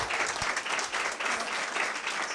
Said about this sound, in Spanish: les pido un fuerte aplauso para todos